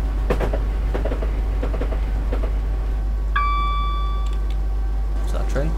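Train running in the game Train Simulator 2016 on a London night commute: a steady low engine drone with rhythmic wheel clicks and a brief tonal horn or chime, with voices talking over it.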